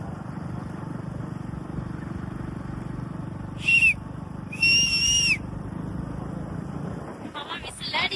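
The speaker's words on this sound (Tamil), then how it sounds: "மாமா விசில் அடிக்கிறேன்." A person whistles near a water tank outside a temple, two short shrill whistles, the second longer, standing out over steady background rumble and murmuring voices.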